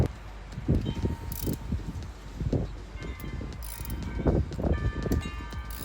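Ratchet cranking loose the 12mm bolts on an intake manifold of a 2008 car, heard as close, repeated clicking pulls in uneven bursts, with occasional metallic clatter between strokes.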